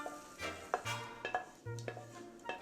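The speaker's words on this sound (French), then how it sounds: "Je vais pouvoir les mélanger avec les bananes." Caramelized fruits stirred together with bananas in a pan, with a spoon scraping and clinking against the metal in several short strokes over a faint sizzle, close and fairly quiet.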